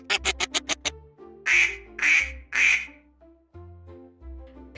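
A rapid series of short quacks followed by three louder, drawn-out duck quacks, then softer calls, close and clear.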